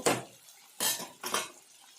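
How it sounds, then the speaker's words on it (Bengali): A spatula scrapes and knocks against a pan while tilapia fish is gently stirred, three distinct quiet scraping strokes separated by short pauses. "অল্প নেড়ে চেড়ে নেব।"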